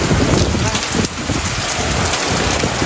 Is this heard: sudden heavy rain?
yes